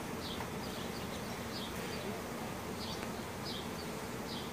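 Honeybees hum steadily and densely in an open hive full of brood, a close, constant swarm buzz with faint high chirps scattered through it and no voices.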